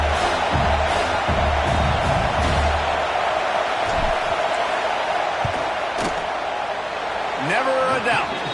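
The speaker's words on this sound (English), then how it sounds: "This crowd trying to do its part to get inside the kicker's head." Big college football stadium crowd roaring loudly and steadily during a field goal attempt, a dense wall of noise with scattered shouts and a brief whistle-like tone near the end, with commentary talk underneath.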